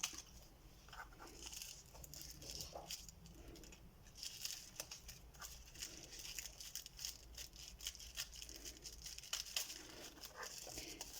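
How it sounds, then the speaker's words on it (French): Small scissors snipping through tissue paper held down with tape during an unboxing, a faint, close run of crinkling and cutting crackles with soft rustles in between. "une petite paire de ciseaux pour couper ça proprement"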